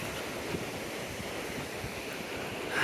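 A river flowing beneath a railroad bridge near Dunsmuir, heard as a steady, broad rush of moving water that stays even throughout, with no voices.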